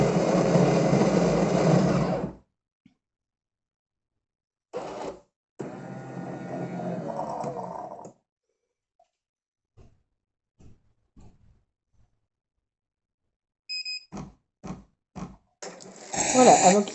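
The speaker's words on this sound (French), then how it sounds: "Vous allez voir le cappuccino se faire." Canofea bean-to-cup coffee machine making a cappuccino: a loud grinding, buzzing mechanical run that stops abruptly, a second motor stretch, then quiet gaps broken by clicks and short pump pulses, heard up close.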